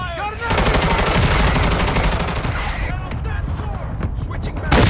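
Rapid bursts of automatic gunfire in Call of Duty: Modern Warfare II, dense loud rattling volleys in the first half that thin into scattered shots and thuds, with game voice callouts mixed in.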